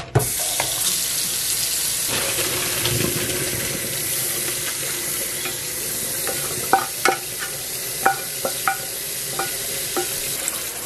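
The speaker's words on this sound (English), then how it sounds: "I'm running cold water over these noodles just because I don't want them to be hot" Cold water pours steadily from a kitchen tap over cooked pasta noodles in a sink, a dense even rush with a few sharp clinks and knocks toward the end.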